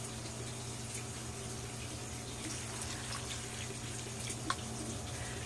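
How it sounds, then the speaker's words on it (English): Water poured steadily into the pot of a Syngonium houseplant during watering, a continuous soft splashing and trickling wash at moderate level with no talk. "And I'm going to give all of this water here."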